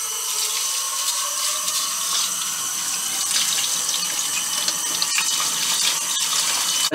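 Tap water runs loudly and steadily into a sink as sushi rice is washed to rinse off the starch, a close, unbroken hiss with no talking.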